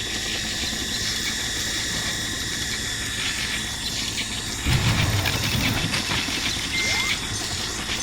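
A helicopter approaching in the video game I Expect You To Die gives a steady engine drone with a low rumble that swells midway, continuous and fairly loud, with no talking.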